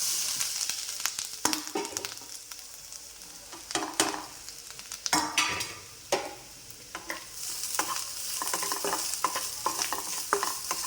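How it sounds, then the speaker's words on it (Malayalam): Grated coconut roasting in coconut oil in a pan over medium flame, with a continuous close sizzle broken by frequent scraping, clattering stirs of a spoon that come in irregular bursts throughout. "ഈ തേങ്ങ ഒന്ന് വറുത്തെടുക്കാം."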